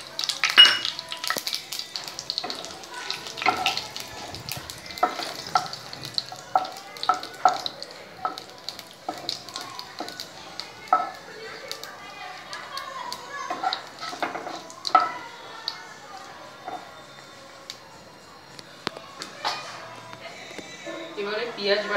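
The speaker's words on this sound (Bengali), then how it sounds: "এই তেলের মধ্যে সাদা জিরে ফোড়ন দিলাম" Cumin seeds and dried red chilies crackle and sizzle in hot oil left from frying bhetki fish, with busy spattering pops and clinking pan noises throughout while a voice talks over the cooking.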